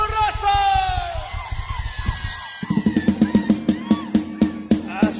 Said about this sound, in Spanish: Ya ver, raza, un grito.